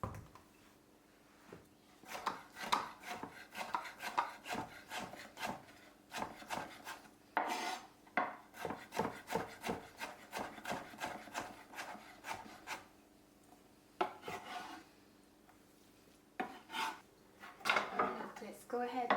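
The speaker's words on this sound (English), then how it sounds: "Let's go ahead and chop the dill." Fresh dill is chopped with a knife on a board in rapid, repeated close taps and scrapes, coming in bursts with short pauses, with some voice in the background.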